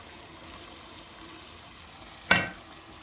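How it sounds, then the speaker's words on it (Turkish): Chicken sautéing in a pan for fettuccine Alfredo makes a soft, steady sizzle throughout, broken near the end by one sudden louder burst of hissing that quickly fades. "Burada da tavuklarla beraber hala sotelenmeye devam edecek"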